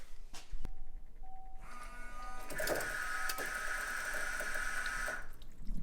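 A water intercooler sprayer on a GC8 Subaru pump-sprays water out at the front of the car, a steady hissing spray with a whining electric pump tone that runs for several seconds before cutting off, preceded by clicks.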